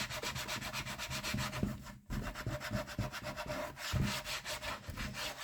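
A rubber stamp is scrubbed clean with household alcohol, giving a close, steady, rhythmic rubbing and scraping with brief pauses between strokes, heard alone without speech.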